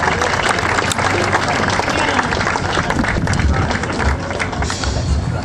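Audience applause for Jeff Gordon at a plaque presentation during a town celebration day, a dense, sustained wash of clapping from a large crowd that stays steady and loud throughout.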